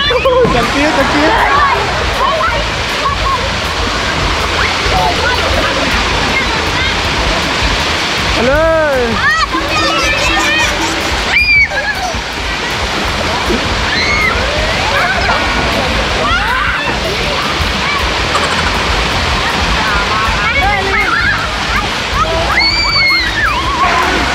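Rushing water at Wang Kan Lueang waterfall, a loud and steady roar that fills the whole stretch, with children and adults calling and talking over it throughout.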